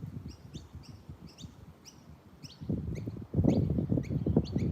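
Small birds chirp and tweet outdoors in quick, high repeated calls, fairly faint and distant, over a low rumbling background that grows louder toward the end.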